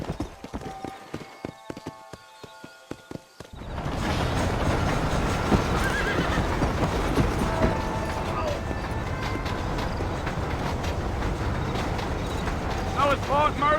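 Horse hooves clip-clop and a horse neighs in the Red Dead Redemption video game on Xbox Series X. A few sparse hoofbeats give way to a steady, loud ride with whinnies, wind rush and music, and someone talks over it.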